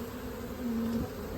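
Honeybees buzz in a steady, close drone as they are shaken down from a hive frame, with a brief higher whine from a single bee passing near.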